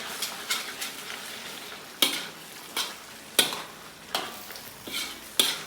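Raw egg stirred into creamy chicken chopsuey in a pan: a repeated rhythm of spoon scrapes and clanks against the pan every second or so, over a low sizzle, close and clear, no talk.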